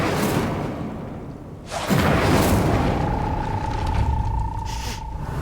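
Incendio fire spell cast in a Hogwarts video game, a deep booming whoosh that swells suddenly and lingers as a sustained rumbling roar with a faint ringing tone.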